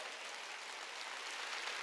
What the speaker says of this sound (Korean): 박수 치라 이기야.